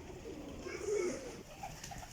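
A pigeon coos softly in a low, rounded call, faint against steady background noise, with no other sound standing out.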